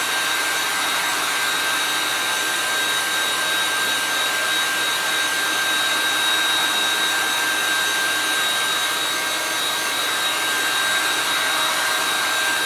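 A hair dryer blows continuously from a short distance away, a loud, steady whooshing roar with a constant high whine, unbroken for the whole stretch.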